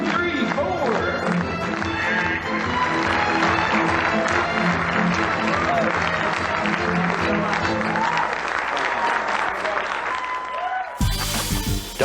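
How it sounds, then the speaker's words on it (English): Stage magic-show audience clapping along in time, a dense rhythmic patter of many hands under music and voices, loud and close, cutting off near the end. "Everybody, clap along."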